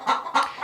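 Chickens in a hen house coop give two quick clucks in succession, close and clear.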